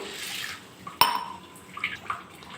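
Sago pearls washed by hand in a bowl of water: soft swishing and sloshing with one brief clink of the bowl, quiet and close.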